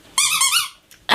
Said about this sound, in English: are squeaky tennis balls.